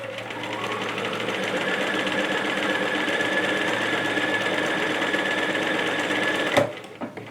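Sewing machine stitching a satin skirt with the needle-down setting and a stitch length of 3, a steady, close mechanical whir running for several seconds before stopping abruptly with a sharp knock.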